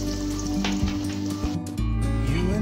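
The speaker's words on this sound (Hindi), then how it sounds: "ऐसे ही हम इनको फ्राई कर लेंगे" Potato croquettes frying in oil, a loud, dense sizzle that runs close and continuous, briefly thinning and then swelling again near the end, with no speech.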